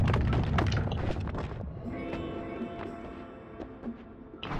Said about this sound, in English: This is an explosion type weapon.